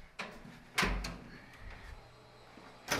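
A locked basement door is checked, giving faint knocks and rattles: a soft thump, a sharper bang with a low thud, then lighter taps, in a quiet room with a low hum.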